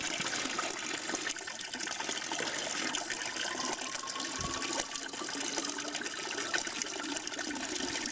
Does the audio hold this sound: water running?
yes